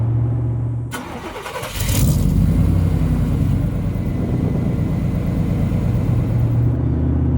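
A 1991 OBS truck with a dual-in, dual-out MagnaFlow muffler and tailpipes exiting behind the passenger rear tire fires up and revs, settling into a loud, steady, close rumbling exhaust note with no talking.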